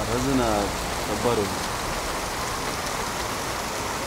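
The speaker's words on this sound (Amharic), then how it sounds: "ባሰ ዝናቡ" Heavy rain pours down in Addis Ababa as a dense, loud, constant roar, with a voice speaking briefly at the start.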